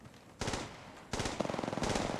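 Automatic weapon fire in the video game Apex Legends, with two bursts of rapid gunshots, the second a longer rattling string, heard alone at close range.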